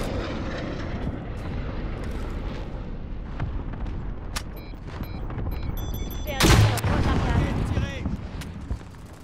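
Aircraft engines roar overhead amid heavy gunfire and a sharp, loud explosive blast during a bombardment in the Call of Duty Modern Warfare shooter game, with voices speaking over the dense battle noise.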